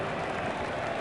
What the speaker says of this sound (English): The crowd are giving him an excellent round of applause.